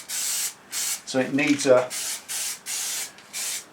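Aerosol spray paint applied to a Triumph Bonneville sump guard in a garage, heard as short hissing bursts repeating about every half second, with someone talking briefly in the middle.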